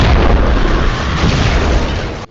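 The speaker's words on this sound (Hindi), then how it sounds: "फिर वहां धमाके होते जा रहे थे" Deep, heavy explosions from bombing strikes on military sites, a loud continuous rumbling roar that fills the low end and holds for about two seconds before cutting off abruptly.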